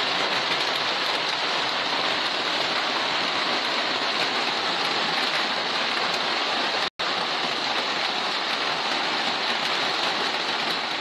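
Heavy storm rain pours steadily while streams of water rush across a road surface, a dense continuous wash of noise throughout with one abrupt split-second dropout midway and no voices.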